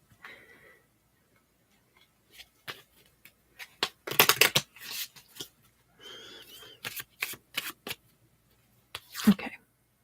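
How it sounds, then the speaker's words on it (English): Tarot cards are shuffled close up in quick, papery riffling bursts separated by quiet pauses, with a louder flurry in the middle. "I'm glad you like the sound of the cards."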